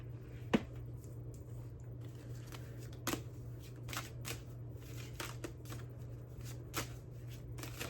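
Playing cards being shuffled close up: a run of crisp riffling bursts and sharp snaps over a steady low hum, with no voices.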